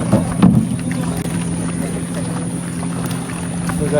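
A houseboat cruises on the backwaters at Alleppey, giving a steady low engine drone with water wash and wind noise on the microphone, one brief louder bump near the start and no talking.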